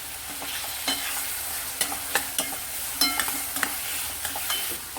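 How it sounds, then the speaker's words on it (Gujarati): Chopped onion goes into hot oil in a pan for pav bhaji and is stirred and sautéed, giving a steady sizzle with scattered scraping stir strokes and small clatters, close and fairly quiet, with no one talking. "જેવી સતળાઈ છે એવા તરત જ આપણે ચોપ કરેલી ડુંગળી એડ કરી દઈએ"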